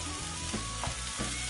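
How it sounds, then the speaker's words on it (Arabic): Onions fry in a pan with a steady close sizzle, broken now and then by faint stirring knocks. "هاي البصله ديالنا باش كتشحر"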